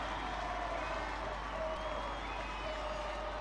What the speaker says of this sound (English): Plenty of collegians present and past cheering on Ryan Duffy